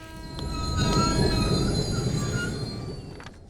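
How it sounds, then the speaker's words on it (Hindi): A train pulls into a station with loud, sustained wheel squeal and rumbling rail noise, swelling nearby and then slowly easing off. "अरे वो देखो, ट्रेन आ चुकी है।"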